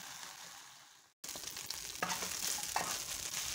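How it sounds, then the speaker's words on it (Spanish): Onion, garlic and split chiles fry in a pan with a steady, fairly quiet sizzle that cuts out briefly and then resumes slightly stronger, with no talking. "ya acá puse los chiles a freír"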